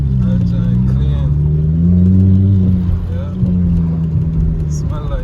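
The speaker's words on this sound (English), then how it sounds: "Guys, look at this old school buggy." An old-school car's diesel engine runs close by, a steady low droning rumble with a brief swell midway, while people talk over it throughout.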